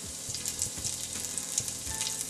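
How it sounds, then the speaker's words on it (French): Cumin seeds, cloves, pepper and red chili pieces sizzle in hot oil in a cooking pot, a steady close crackling with scattered pops and light stirring, with no talking. "Ensuite, j'ajoute les graines de cumin, les clous de girofle et poivre,"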